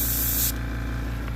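An airbrush sprays paint onto tabletop miniatures, a loud close hiss lasting about half a second before it cuts off, leaving a low steady background hum.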